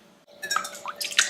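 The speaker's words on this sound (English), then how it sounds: "I'm going to pour in my cold cream." Cold cream is poured into a stand mixer bowl fitted with a whisk attachment, giving a brief wet, dripping splash that builds over about a second, close and moderately loud.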